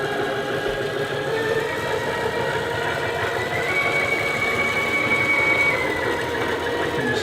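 An automated Accu-Slice slicer motor runs steadily at close range, a continuous mechanical hum and whir whose pitch creeps up slightly as the speed increases, with no voices.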